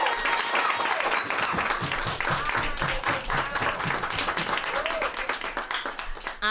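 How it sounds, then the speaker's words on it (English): An open-mic audience at the Nuyorican Poets Cafe applauds, a dense, steady wash of clapping that runs the whole time with a few voices mixed in. "give this man the applause that he deserves"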